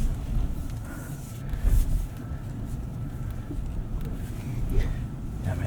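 A 2026 Ram 1500 pickup with a 5.7L Hemi V8 crawls over wet off-road ground, giving a steady low engine rumble throughout with some wind noise and no break in the drone.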